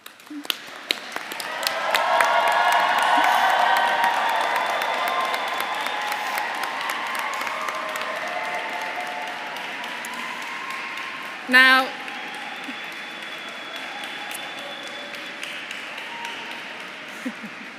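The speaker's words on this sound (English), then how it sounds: "So now you will applaud them in return." Graduates applaud their supporters inside Canterbury Cathedral at a university graduation ceremony. The applause swells loud within a second, then slowly thins into a long, reverberant patter, with a brief sharp knock near the end.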